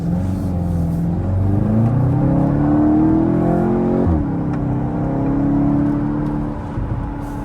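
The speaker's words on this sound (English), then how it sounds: "I was never a huge fan of the 2-liter turbo 4-cylinder they were putting in these, but let's see how this one goes" Turbocharged 2-liter four-cylinder in an MK8 VW GTI pulls hard through the gears in cold, wintry conditions, a loud, close engine note climbing steadily in pitch, dipping at a shift, then rising again with no talking.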